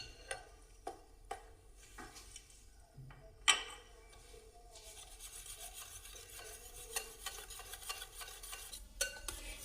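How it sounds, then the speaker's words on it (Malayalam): Cake batter mixed with mango pulp, stirred by hand in a bowl, gives a soft, faint scraping and tapping with scattered light clicks of the utensil against the bowl. "ഇതെല്ലാം കൂടെ ഒന്ന് മിക്സ് ചെയ്യാം."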